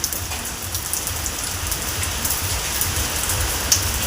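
Steady rain pours continuously outside a house, a dense even hiss of drops striking surfaces close by, with no voices.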